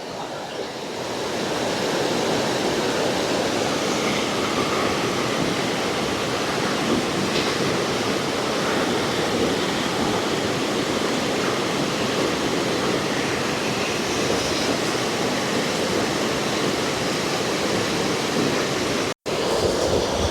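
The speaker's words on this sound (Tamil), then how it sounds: "தண்ணி எப்படி ஒரு கல்லில் பட்டு போகிறத பார்க்கக்கூடிய மாதிரி இருக்குது" Water rushes steadily over stones beneath a bridge broken in two in Mullaitivu, a loud, unbroken broadband roar that runs throughout with no voices.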